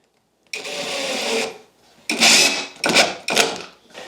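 An impact driver with an extension drives 1.25-inch screws into the wood of a twin bed frame: a long buzzing run of about a second, a pause, then three shorter, rapid hammering bursts, loud and close.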